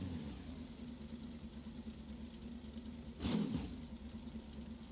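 A Corvette in BeamNG Drive idles with a quiet, steady low hum, broken by a short, louder burst of engine noise partway through before it settles back to idle.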